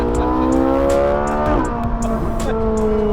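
A Ferrari pulls away and accelerates close by, its engine note climbing through gear changes under a steady roar, with faint tire noise and no talk.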